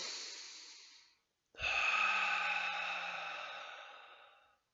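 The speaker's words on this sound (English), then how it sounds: "So exaggerate the breath." Two long, exaggerated meditation breaths, a drawn-out airy exhale that fades, a short pause, then a fuller, louder inhale-exhale with a slight low rumble, close and alone.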